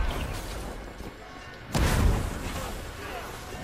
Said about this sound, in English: Alright, I'm gonna put this bomb right here.